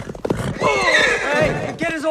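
A horse neighs in the film Army of Darkness, a loud, long whinny that rises and falls and carries over hoof clatter and shouting voices.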